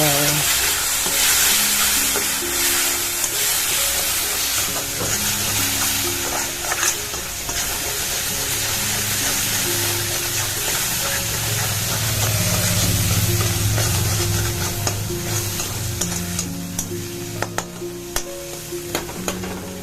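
A spoon scrapes and stirs turmeric and spice powder around a hot frying pan, with a continuous oily sizzle underneath and intermittent metallic scraping clicks, close up and steady throughout.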